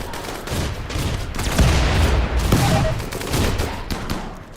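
Rapid volleys of gunfire from a Rimdark40K RimWorld mod game rattle continuously and loudly, with dense bursts building in the middle and no talk over them.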